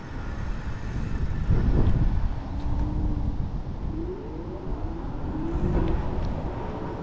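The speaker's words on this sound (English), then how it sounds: "pretty strong wind right here, I can feel it going right into it" Strong outdoor wind buffets the microphone in a steady low rumbling roar with gusty swells throughout, standing alone and loud.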